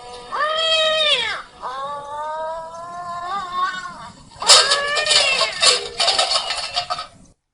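A voice imitates cat meows, several drawn-out, wavering mews in a row, loud and close, ending in rougher, yowling cries.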